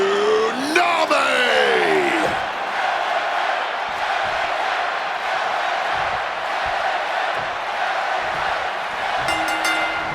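A wrestling arena crowd on Monday Night Raw roars in a loud, sustained wash of cheering that holds steady throughout, with brief whistles and swooping tones near the start.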